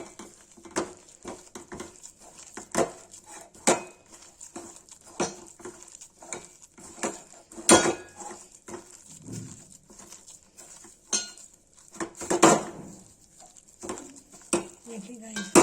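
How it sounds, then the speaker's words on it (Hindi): Rice flour and lotus stem mixture roasted in a pan on a gas stove, with a spoon scraping and tapping the metal pan in irregular strokes, close and fairly quiet, with brief murmured talk. "अब इसको गैस जलाएंगे और इसे भूनेंगे इसको।"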